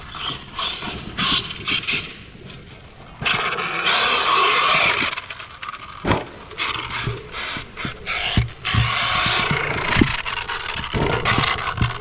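An Arrma Kraton 8S RC car with a bent chassis runs at a skatepark, its drivetrain grinding and rattling with a rough, ratchety mechanical whine, punctuated by sharp knocks and clacks as it bounces over the ramps.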